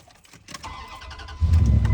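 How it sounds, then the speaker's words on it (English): A 1992 Itasca Spirit camper's engine cranks with a few clattering turns of the starter, then catches and fires into a loud, deep rumbling run about midway through. "we're going to see if we can get this camper to start"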